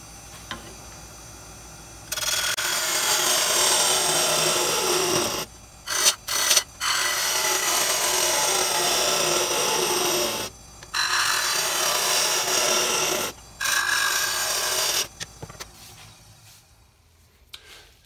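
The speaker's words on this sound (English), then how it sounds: "I'm gonna go ahead and start hollowing this out just like we would do a traditional bowl" A wooden bowl being hollowed on a lathe, with a gouge scraping and rasping in long loud bursts broken by brief pauses; no talking.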